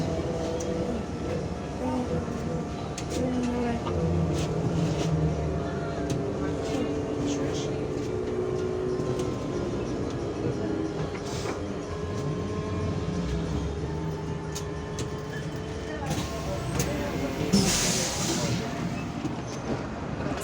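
Steady interior rumble of a Škoda 14Tr trolleybus in motion, with a continuous low drone and faint whine, occasional rattles and a brief louder swell near the end, heard from inside the cabin.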